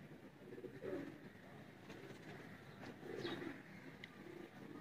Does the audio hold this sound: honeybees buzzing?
no